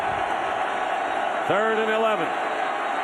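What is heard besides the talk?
football stadium crowd cheering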